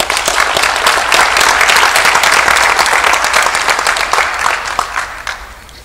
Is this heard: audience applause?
yes